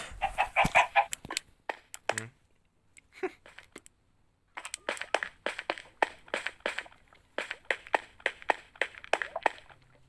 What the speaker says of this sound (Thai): ไก่กลับหัว